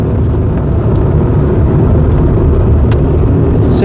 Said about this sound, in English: Just as you put your foot down, it slips again.